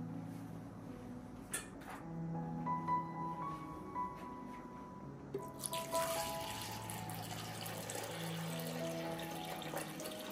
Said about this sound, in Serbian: Šerpu ću napuniti sa vodom.